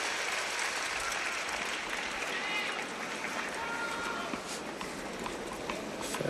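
A tennis crowd at a Federer versus Djokovic match reacts with a steady wash of clapping and murmuring after a ball kid fumbles a loose ball, dense and sustained throughout.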